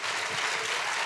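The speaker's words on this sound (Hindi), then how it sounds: "एक जोरदार तालियां अतिका के लिए प्लीज" A live audience breaks into loud, dense applause at a literary festival conversation session, a brief burst of steady clapping with no voices on top.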